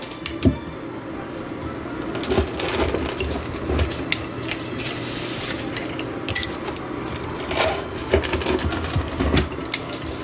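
A knife crunches and scrapes through the crisp crust of a cooked frozen wood-fired margherita pizza, with close, gritty crackling and several sharper snaps as the blade works through.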